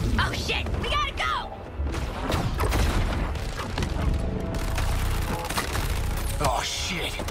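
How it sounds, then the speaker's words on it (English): An exploding enemy bursts in a Suicide Squad: Kill the Justice League battle: a loud blast and crash inside dense, constant game noise of gunfire, thuds and effects, with people talking over it. "Whoa, he's exploding!"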